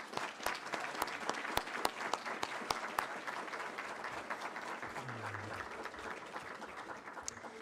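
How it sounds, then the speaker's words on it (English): Audience applauds elected officials at a State of the City address, sustained dense clapping with a few sharp nearby claps standing out, steady and fairly loud throughout. "Let's give them a round of applause."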